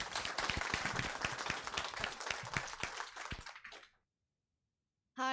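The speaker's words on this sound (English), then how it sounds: "let's have one more round of applause" Audience applause at a school board meeting: dense, steady clapping from a crowd for about four seconds that fades out abruptly, followed by silence, then a brief burst of noise at the very end.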